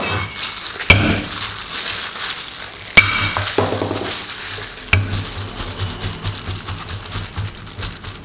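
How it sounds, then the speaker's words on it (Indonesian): Garlic cloves being crushed, eight cloves for a stir-fried mustard greens dish, with three sharp smashing thuds spaced a couple of seconds apart over a steady low hum and faint kitchen noise. "Bawang putih ini kemudian kita memarkan."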